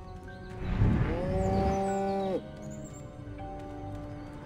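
A cow moos in the Destroy All Humans video game, one long, loud, tonal low moo lasting about two seconds and ending abruptly, over quieter game background sounds.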